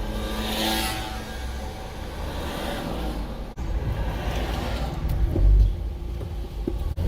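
A car pulls away and drives along city streets in Paramaribo, Suriname, its engine a steady mid-level rumble with tyre and road noise that swells briefly as it accelerates, heard from inside the vehicle.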